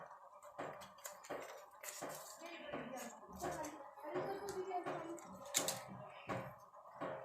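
Fried rice spooned into a pot over chicken for biryani, irregular soft scrapes, taps and clinks of a utensil against metal, fairly faint and close, with a voice talking intermittently.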